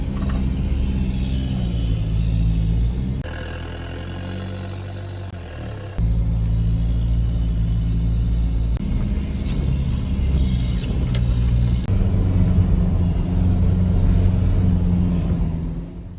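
4WD car crawling along an overgrown bush track in the Victoria High Country, engine rumbling steadily with clunks and mechanical rattles from the drivetrain and body, its note shifting as the pace changes.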